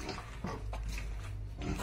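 Berkshire and native cross pigs grunt close by in a pen after bathing, a few short rough grunts over low steady background noise.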